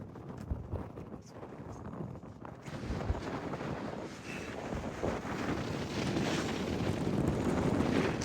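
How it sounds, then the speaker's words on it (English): Gusty wind buffets the microphone outdoors in Rocky Mountain National Park, a loud continuous rumbling roar that swells stronger toward the end, with faint voices underneath. "Breezy."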